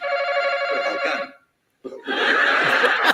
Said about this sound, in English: The dreaded phony horse gag.